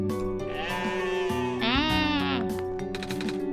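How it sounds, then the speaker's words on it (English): A goat in the video game OneShot gives a loud, wavering bleat, a sustained quavering cry that rises and bends, up front and alone. "And the goat!"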